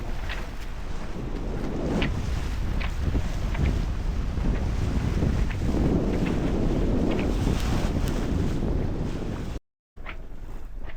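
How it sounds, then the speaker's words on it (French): Heavy wind buffeting on a sailboat at sea, a constant roaring rumble with faint creaks and splashes, broken by a moment of silence near the end. "Il y a du vent, je comprends pas, il y a plein de voiliers qui sont au moteur."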